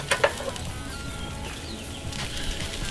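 Large shrimp cooking over a charcoal grill give off a low, steady sizzle with faint crackles and a few brief ticks near the start.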